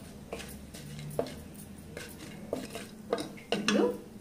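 Bay leaves and cloves get stirred in a pot for sweet corn pulao, a quiet series of metal spoon scrapes and clinks against the pot, with a faint low sizzle between strokes.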